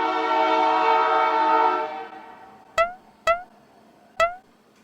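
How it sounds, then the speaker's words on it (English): A passing train sounds a long, loud, rich horn blast that fades out, followed by three sharp, short clanking hits spaced apart nearby. "every time I try and film a talking session, there's a train going by"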